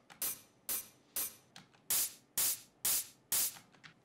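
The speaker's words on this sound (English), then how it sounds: "We have some white noise that gets volume automated at the end, so it kind of transitions you in a weird way." Electronic white noise in a remix pulses in sharp, regular bursts, about two per second. Each burst hits hard and then fades quickly, with fainter flickers between them.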